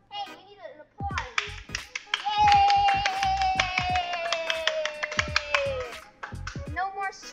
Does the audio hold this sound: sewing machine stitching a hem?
no